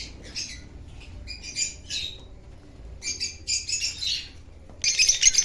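Pet lovebirds give bursts of shrill squawks and quick chirps in clusters. The calls are close and fairly loud, with short quiet gaps between them and a sharper run of calls at the end.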